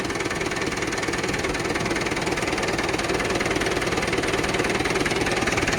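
A Mahindra 475 tractor with a recently overhauled engine idles steadily nearby, a constant even diesel rumble with a fine knocking pulse and no speech.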